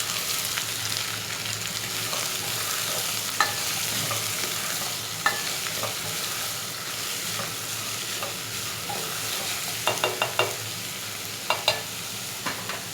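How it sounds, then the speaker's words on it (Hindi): Bottle gourd (lauki) frying in a pan while being stirred, with a soft continuous sizzle under occasional scraping and clinking of the spoon, louder taps near the end. "साथ ही मैं इसमें लौकी ऐड कर देती हूँ। अच्छी तरह से मिक्स कर लें।"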